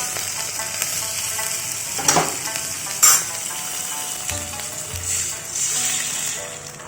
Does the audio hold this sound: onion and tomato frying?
yes